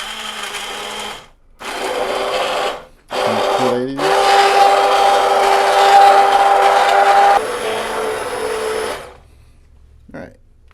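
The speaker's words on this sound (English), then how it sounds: "I'm going to actually take my immersion blender" An immersion blender whirs in short, loud bursts and then one long continuous run while blending homemade spaghetti sauce for spaghetti and meatballs, with brief pauses between bursts and a quiet stretch at the end.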